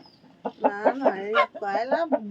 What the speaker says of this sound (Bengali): তার জন্যই প্রথমে বললাম মুরগির ডাক পেলাম।